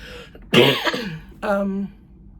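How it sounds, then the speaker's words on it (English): A harsh, close throat-clearing cough followed by a second rougher cough, two bursts with a short pause between. "I have a cough that continues"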